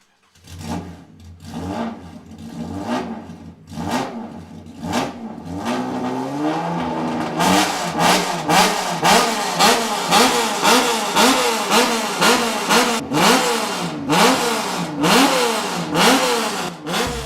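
A racing car engine at Fuji Speedway blips in loud, close bursts, then settles into a rapid, rhythmic series of high revs and throttle pulses that carry on steadily without any voices.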